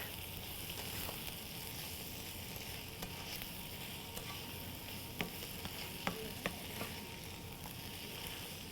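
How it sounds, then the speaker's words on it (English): Apple dumpling filling made with eating apples is stirred in a pan. A soft, low sizzle hisses steadily, broken by a few faint clicks of the spoon against the pan. "let me stir this real quick"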